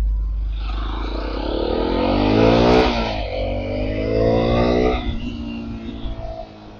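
A motorcycle pulls away and accelerates hard, its engine note climbing steeply in pitch as it revs up close by, easing briefly then rising again before dropping off.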